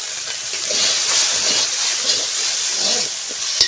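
Mustard oil sizzling in a pan while cooking mashed taro leaves, a steady, loud, close hiss that holds evenly throughout with a small pop near the end.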